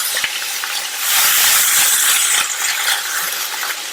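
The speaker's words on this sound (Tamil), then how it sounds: "நல்ல மிதமான தீயில வச்சு ஒரு வதக்கி விட்டுருங்க." Potatoes and tomatoes with salt sautéing in a pan over medium flame for potato coconut-milk curry: a steady, close sizzle broken by scraping stirs and small clicks of a spoon against the pan.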